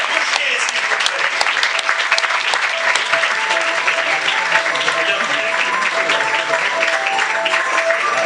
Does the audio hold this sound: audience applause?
yes